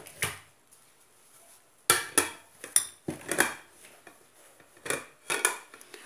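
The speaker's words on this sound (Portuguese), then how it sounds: "Eu vou estar desenformando para vocês verem o resultado." A baked corn cake made with couscous flour being turned out of its pan, heard as a series of sharp clatters and knocks of the metal pan, with short bursts at irregular intervals and quiet gaps between them.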